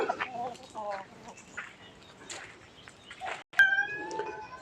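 Several cats meow repeatedly close by, overlapping with clucking chickens and a person's voice talking, in Lampang, Thailand.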